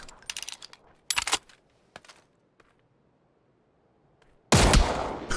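Gunshots in PUBG: several sharp, short shots in a small cluster at the start, a couple of isolated cracks in the middle, then a loud burst of fire near the end.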